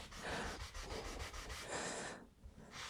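Close, scratchy rubbing of sandpaper on an old window's wood in quick back-and-forth strokes, steady and rhythmic, stopping briefly near the end.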